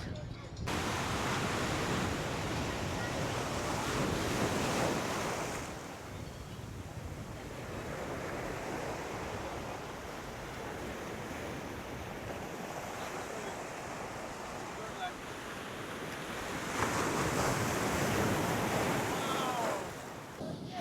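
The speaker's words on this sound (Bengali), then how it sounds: "আর এই হচ্ছে আমাদের প্রিয় দীঘার সমুদ্র সৈকত।" Sea surf rolls steadily onto Digha beach, a broad wash of breaking waves mixed with wind buffeting the microphone, swelling louder at the start and again near the end.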